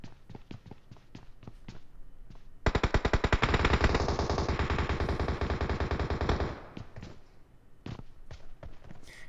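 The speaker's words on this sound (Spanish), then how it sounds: "Por allá hay disparos arriba" Rapid automatic gunfire in the mobile battle-royale game PUBG Mobile on the Sanhok map, played on an iPad Pro, a loud sustained burst of several seconds between scattered single shots and footsteps-like taps.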